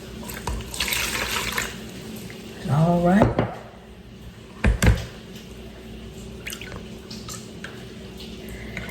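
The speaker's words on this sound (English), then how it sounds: "I poured that water right down into my buttermilk" Water poured from a container into buttermilk during homemade butter making, a short gurgling splash near the mic amid kitchen clatter, followed by a brief sharper splash; a voice speaks briefly.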